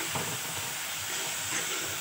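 Spice masala with chili powder fries in a pan, a steady close sizzle and hiss that holds evenly throughout with no breaks or voices.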